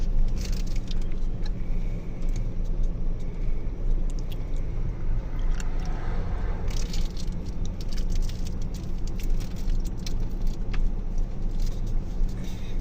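A car drives along steadily while keys jangle and rattle inside the cabin, a constant engine and road rumble with light metallic clinking over it.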